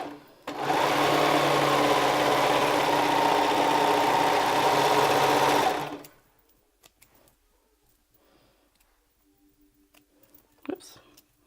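Sewing machine stitching the front rises of a garment, running in one steady, close mechanical buzz for about five seconds and then stopping abruptly, followed by faint handling sounds and a small clunk.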